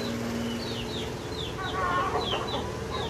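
Roosters clucking inside their coop, with several short hoarse calls repeating over steady farmyard background noise, nearby and moderately loud.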